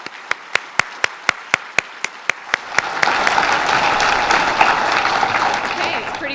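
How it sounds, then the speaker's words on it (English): Applause for a police band at a merit awards ceremony starts with a dozen evenly spaced single claps in rhythm, then swells into loud, dense crowd clapping that carries on steadily. "can we give a round of applause to our band"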